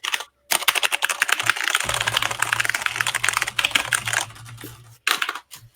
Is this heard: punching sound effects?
no